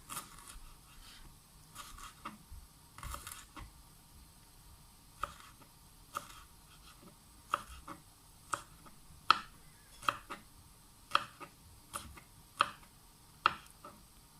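A knife chops ginger on a cutting board for a chicken feet curry, starting with a few scattered taps and then settling into sharp, evenly spaced strikes about once a second over a quiet background.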